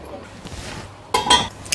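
A metal lid comes off a pot of potato gravy with a bright clink and clatter near the end, preceded by quiet low kitchen noise.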